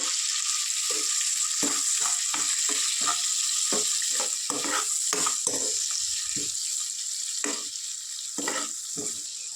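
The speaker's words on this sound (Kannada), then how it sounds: "ಟೊಮೆಟೊ ಫುಲ್ಲು ಸಾಫ್ಟ್ ಆಗೋವರೆಗೂ ಚೆನ್ನಾಗಿ ಫ್ರೈ ಆಗಬೇಕು" Onions and chopped tomato fry in a pan for an egg gravy, a steady bright sizzle running throughout, broken by repeated close scraping and stirring strokes in an irregular rhythm, with no voices.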